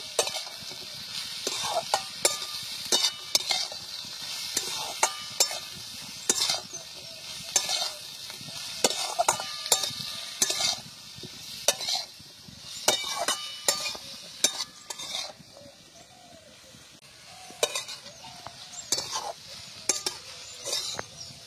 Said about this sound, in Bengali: দিয়ে এবার ভালো করে সবকিছু মিশিয়ে নেব।